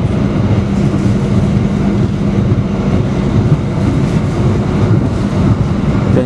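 An Argo Lawu passenger train runs at 90 km/h on the Yogyakarta–Jakarta line, heard on board as a loud, continuous rumble of wheels and rails with faint rhythmic clatter.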